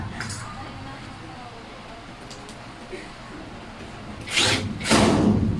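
A power screwdriver drives screws into a metal low storage cabinet with two swing doors, two short whirring bursts near the end after a stretch of quiet handling clinks, close and fairly loud.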